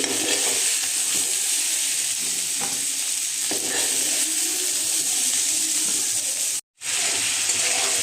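Potatoes and raw jackfruit frying in hot oil in a home kitchen pan while being stirred, giving a steady, loud sizzle with faint scraping that drops out briefly near the end.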